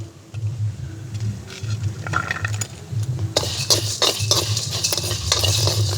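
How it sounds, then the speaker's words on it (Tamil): Spices dry-roasting in a pan for country chicken soup, with steady scraping stirs and a low sizzle that grows busier partway through, close and moderately loud, with no talking. "நான் எல்லாத்தையும் இந்த சட்டியில் வறுத்தெடுக்க போகிறேன்"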